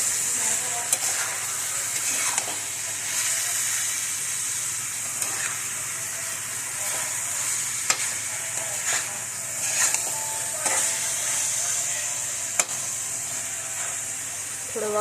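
Mushroom and paneer bhaji frying in a pan with chilli powder, turmeric and salt, a steady soft sizzle and hiss with scattered clicks of stirring throughout, fairly quiet.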